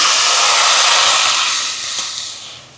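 A loud, broad hiss and sizzle rushes out at once as water is poured into a hot pan to make sugar syrup, slowly fading toward the end.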